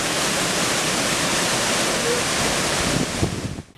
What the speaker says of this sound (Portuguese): Assim, corre até a cachoeira, né?